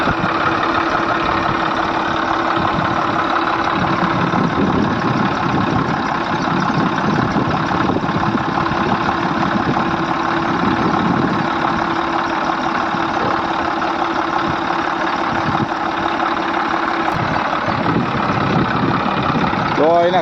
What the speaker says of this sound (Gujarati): તો એના કરી દીધું ટ્રેક્ટર ચાલુ